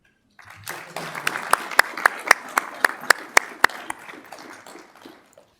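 Applause at a school board meeting: a modest group claps for a few seconds, sharp individual claps standing out over a softer patter that builds, then fades away.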